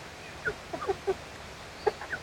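Backyard chickens cluck softly while pecking at cooked rice, a handful of short, close clucks and chirps scattered over a low outdoor background.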